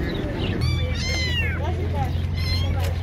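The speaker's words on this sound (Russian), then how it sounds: "вот котики и кошечки, порода Невская маскарадная" Neva Masquerade kittens meow repeatedly at a busy outdoor bird-market fair, several high rising and falling cries close by over a steady low hum and crowd noise.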